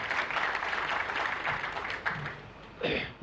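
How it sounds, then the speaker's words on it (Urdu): A crowd claps in a sustained burst that tapers off, followed by a brief second flurry of clapping near the end. "آپ سب کی بھرپور تالیوں میں"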